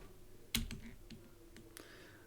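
Keys on a computer keyboard are tapped in a short, faint burst of scattered clicks, one sharper keystroke standing out, in a quiet room with no talking.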